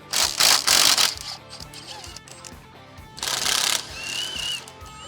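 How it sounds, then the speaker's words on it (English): A 14mm socket ratchet and spanner work nuts off rocksliders on a 2005–2015 N70 Toyota Hilux, close metallic clicking and ratcheting in two louder bursts over a steady mechanical background. "I've just used a 14mm socket and a 14mm spanner just to remove these out of the way"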